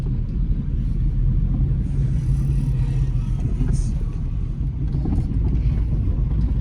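Honda IV Tech car driving on an African road, a steady low engine and road rumble with wind buffeting throughout, heard from inside the cabin.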